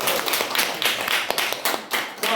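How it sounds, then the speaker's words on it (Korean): Scattered hand clapping from a small group of elderly listeners at an evangelism gathering in a senior citizens' hall in Uiryeong, Korea: a handful of sharp, close claps in an uneven rhythm. "박수!"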